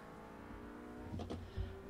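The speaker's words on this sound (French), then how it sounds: "on met les gaz" A Project CARS video game car engine revs softly under throttle, a steady hum that swells briefly near the end.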